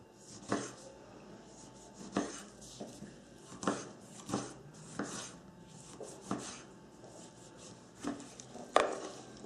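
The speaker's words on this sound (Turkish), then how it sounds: "Soymadan ufak ufak doğruyor" A knife chops an unpeeled tomato into small pieces on a board, about a dozen soft, close thuds in a steady, slightly uneven rhythm, quiet with no talking.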